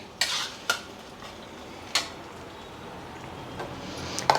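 A spoon clinks and scrapes against a pan in a few sharp, separate taps while stirring in turmeric, with a faint sizzle underneath and no voices.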